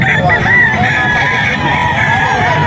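A Hennie rooster crows at a seller's yard, one loud, close, drawn-out cock-a-doodle-doo with other fowl and people talking in the background.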